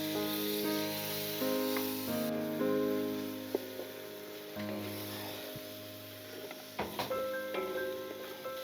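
Masala with yogurt frying in a pan for a paneer cashew curry makes a steady hissing sizzle with occasional clinks and scrapes, fairly quiet, with faint tonal hum underneath and no voices.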